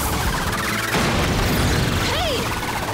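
A Power Rangers Dino Charge spiral attack explodes in a loud, dense, sustained blast with crashing bursts and a whooshing sweep, dense effects with a voice briefly mixed in.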